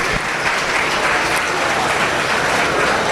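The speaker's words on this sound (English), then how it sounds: "Let's give them a round of applause as well." Steady, sustained applause for senior competitors at a beef cattle showmanship event, a dense crowd clapping continuously and loudly throughout.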